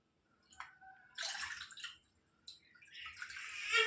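Water poured from a bowl into a cooking pot for boiling, splashing and trickling in a few separate pours with brief pauses between, close and moderately quiet.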